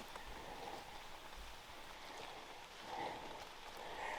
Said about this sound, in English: At least I'm out of the rain up here.